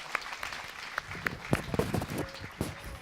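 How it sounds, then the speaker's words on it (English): Audience clapping at an evening startup community event, a scattered, uneven patter of hands that swells and thins over a few seconds, with faint voices mixed in. "applause for all the guys that are here tonight"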